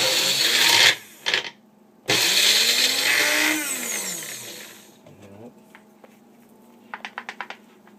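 A blender whirs loudly while blending an almond cheese mixture with herbs, cutting out briefly, restarting with a pitch change, then winding down to a quieter hum with a few faint clicks at the end.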